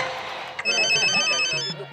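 A telephone ringtone chimes in short repeated electronic tones over a brief moment, set against a background of voices in a scene from a Hindi-dubbed action film.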